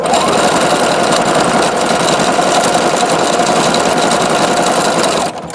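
A Juki HZL-F300 or Singer XL-550 sewing machine stitches metallic thread at full speed, a loud, continuous close whirring drone that stops near the end.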